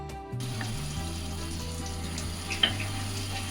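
Potato and cauliflower curry sizzles as it fries in hot oil in a pan, a steady close crackling hiss with faint stirring clicks and no talk.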